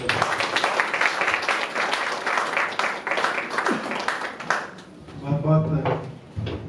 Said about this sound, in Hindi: श्री मनीष सिसोदिया जी को जोरदार तालियों।